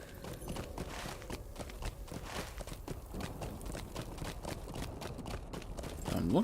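Horse hooves clip-clopping steadily in the Lord of the Rings Online video game, a continuous walking rhythm of close, moderately loud footfalls over a busy background with a slight swell at the end.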